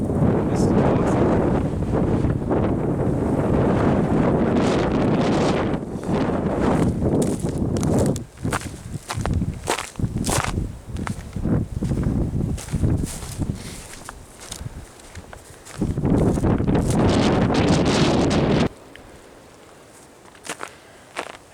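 Strong wind gusts roar across an exposed high ridge in the Dolly Sods Wilderness of West Virginia, buffeting the microphone in loud, sustained blasts that ease briefly and then surge again before dropping away near the end.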